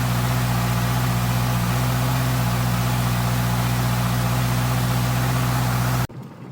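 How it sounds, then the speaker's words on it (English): Idling at 2000 RPM, a rebuilt Honda CB650R motorcycle engine gives off a steady, loud hum with a strong low drone, close by, until it cuts off abruptly near the end, leaving only quiet background. "we're at 2000 RPM. Just going to give it some time to warm up."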